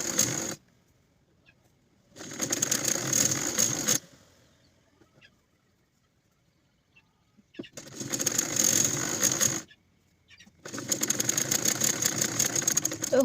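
A sewing machine stitches a pajama seam in three separate runs of roughly two to three seconds, each a dense mechanical whir, with near-silent pauses in between.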